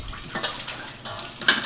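Metal pots, pans and utensils clink and scrape against each other during hand dishwashing in a home kitchen, in several close bursts separated by brief pauses, with no voices.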